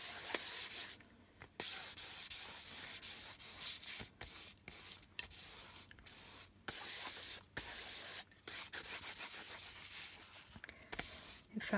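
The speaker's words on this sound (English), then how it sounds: "We had a spray of water." Bursts of a hand spray bottle misting water onto painted paper, a run of short airy hisses separated by brief pauses, close and fairly loud with no talking.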